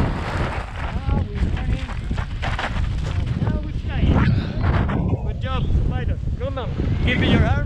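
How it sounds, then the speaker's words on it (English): Strong wind buffets the microphone at a paragliding takeoff site on the Tenerife coast near Costa Adeje, a steady close rushing roar that runs throughout under voices talking. "We have a nice wind to the takeoff."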